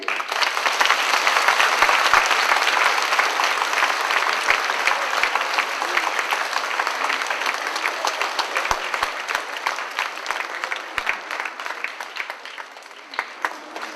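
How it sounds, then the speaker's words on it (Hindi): A large audience at a three-day charismatic convention breaks into loud, sustained applause, dense clapping filling the room steadily and easing slightly toward the end. "हम उनको धन्यवाद देते हुए जोर से ताली बजाएंगे।"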